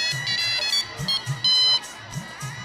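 A phone ringtone sounds in a TV-sitcom household scene, repeating short electronic tones in bursts over about three seconds, with a louder burst near the middle and some faint voices underneath.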